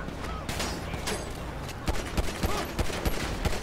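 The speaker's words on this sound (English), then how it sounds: "it's a gun shootout" A gun shootout in GTA V, with rapid overlapping gunshots cracking in a steady, loud fusillade over continuous game noise.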